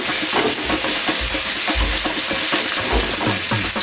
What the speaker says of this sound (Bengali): পেঁয়াজটাকে প্রথমে একটু ভালো করে ভেজে নেব যাতে পেঁয়াজের কাঁচা গন্ধটা চলে যায়।